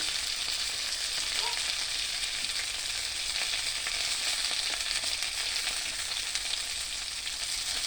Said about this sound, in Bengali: আজকে মাছ ভাজা করে রান্না করতে